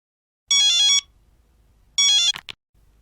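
A telephone rings with two bright electronic trills, each about half a second long and separated by a pause, followed by a click as it is picked up, close and clear in a quiet room.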